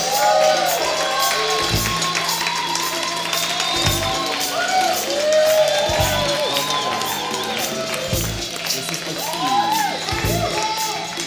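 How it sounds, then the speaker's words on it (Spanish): Studio audience at a Tijuana talk show breaks into loud, sustained applause and cheering for an introduced guest, a dense crowd roar with shouts and voices mixed in throughout. "Un aplauso para Jibal."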